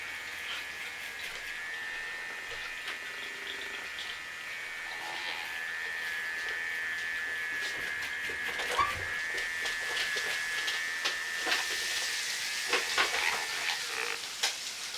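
A StylePro electric makeup brush cleaner spins a brush with a steady high-pitched motor whine, close and moderately loud, over light rattling and clicking that grows busier toward the end.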